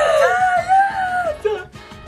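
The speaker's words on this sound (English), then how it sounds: "That classic scream. That fake ass scream." A fake, theatrical scream from a Bratz movie, one loud, wavering high-pitched cry held for about a second and a half, then tailing off with a short whimpering break.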